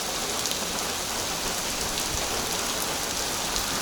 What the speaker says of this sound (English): there is the rain